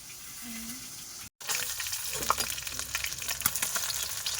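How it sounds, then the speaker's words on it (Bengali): Pangas fish fries in a pan in a village-style kitchen, starting with a quieter hiss, then a brief cut, then a louder, crackling sizzle with sharp pops, no talking. "বন্ধুরা মাছটা কিন্তু খুব ভালোভাবে ভেজে নিচ্ছে"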